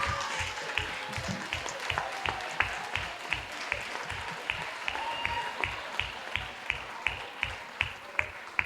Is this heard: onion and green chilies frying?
no